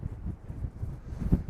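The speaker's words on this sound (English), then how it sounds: "It's very, very windy." Strong wind buffets the microphone at South Quay, Millbay, Plymouth, a low rumbling roar that gusts unevenly throughout, with a sharper blast near the end.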